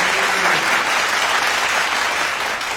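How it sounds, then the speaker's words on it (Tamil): An audience applauds at a live event, dense sustained clapping from a large crowd, loud and continuous throughout with no voices over it. "2 நிமிஷம் ஆகும் உங்கள் கைத்தட்டு நிற்கிறதுக்கு"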